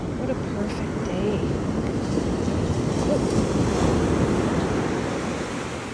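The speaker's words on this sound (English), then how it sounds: "The waves are amazing." Ocean surf rolls steadily onto a beach as a dense, continuous wash of breaking waves, with some wind buffeting the microphone throughout.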